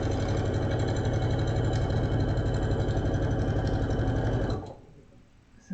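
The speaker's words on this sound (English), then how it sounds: "we're just sewing this into place" Sewing machine stitching fabric for a quilted table mat, a loud rapid mechanical whirring run that stops abruptly near the end, leaving quiet.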